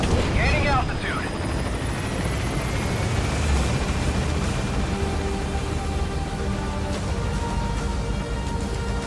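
A helicopter in the video game Metal Gear Solid V flies steadily throughout, a loud continuous rotor drone with a brief radio chirp at the start and no one speaking.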